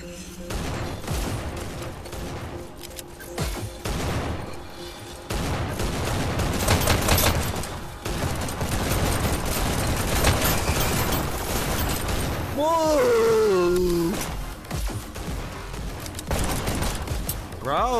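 Gunfire in the video game HyperDash rattles in dense, rapid bursts throughout, with rising and falling electronic tones sweeping through near the end.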